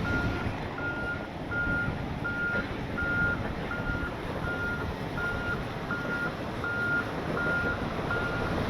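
A truck reversing alarm beeps in a steady, evenly spaced series over a continuous engine rumble as a rig backs up two trailers together.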